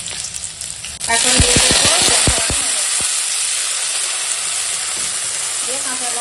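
Radish greens hitting hot oil with a green chili tempering, a sudden loud burst of sizzling and crackling that settles into a steady hissing fry, with a voice speaking briefly at the start.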